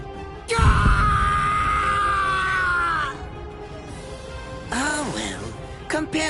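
In the video game Bleach Rebirth of Souls, a man lets out a long, loud scream of pain, then after a pause gives a shorter strained cry with groaning.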